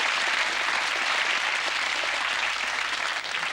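A studio audience at a TV chat show applauds warmly, a dense, even wash of clapping that holds steady and eases slightly near the end.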